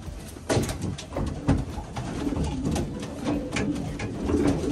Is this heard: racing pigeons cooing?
yes